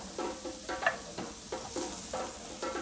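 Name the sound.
mushrooms sautéing in butter with leeks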